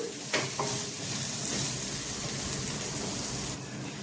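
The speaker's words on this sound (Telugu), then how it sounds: "నేను హై ఫ్లేమ్లోనే వేపేస్తున్నానండి, మీడియం ఫ్లేమ్లో వేపట్లేదు" Netthalla (anchovies) fry in a pan over a high flame, a steady close sizzle and crackle with a few light stirring clacks, no talk.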